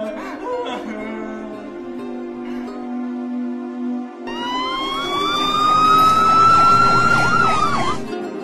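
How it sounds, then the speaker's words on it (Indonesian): A police car siren wailing in rising and falling sweeps, entering after a steady tonal hum and building loud over the second half with no speech. "dari kejauhan terdengar suara sirine mobil polisi"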